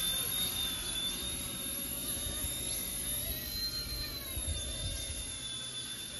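An MD500 RC model helicopter flies with a continuous high whine and steady rotor buzz. It is moderately loud, even and unbroken for several seconds, with wind and no voices.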